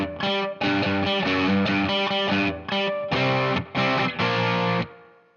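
Distorted electric guitar plays a main riff in octaves, a chugging pattern of repeated punchy chords in short bursts with brief gaps, loud and alone, ending in a fading ring.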